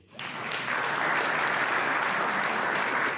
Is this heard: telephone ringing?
no